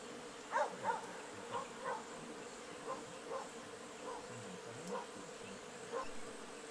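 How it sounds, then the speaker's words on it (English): Bees buzz around a gum tree in the Black Hills north of New Norfolk, a faint, quiet hum swelling and fading in soft passes as individual insects fly near and away. "And this gum tree is abuzz with bees."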